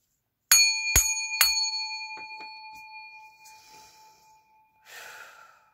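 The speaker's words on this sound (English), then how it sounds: "It's a little brass bowl. It rings out really loudly." A small brass singing bowl is struck three times in quick succession, each strike ringing out loudly with long sustained metallic tones that slowly fade, followed by a few lighter taps and a brief breathy rustle.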